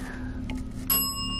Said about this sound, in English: Does anybody want to ring the bell?